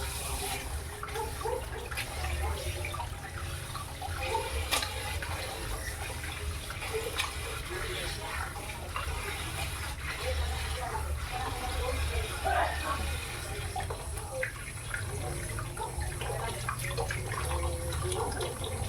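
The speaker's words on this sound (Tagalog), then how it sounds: "I-wash natin ng maraming bisis para clean na clean." Raw fish for kinilaw being washed repeatedly under steady running tap water, a continuous close splashing stream with small clinks and drips throughout.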